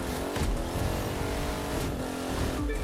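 A Chevrolet Corvette C3 races at speed in The Crew 2, its engine droning loud and steady with a harmonic whine, brief shifts and tire noise, heard alone for about three seconds.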